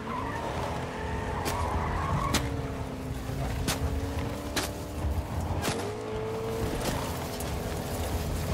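A truck drives and skids in The Joker video game, its engine droning steadily while tires squeal and whine in stretches, with sharp clicks and impacts scattered over the top.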